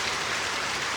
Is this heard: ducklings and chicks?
no